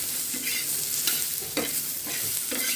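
Onions dry-roasting and being stirred in a pan for onion chutney, a steady close sizzle broken by repeated scraping stirs, with no talk.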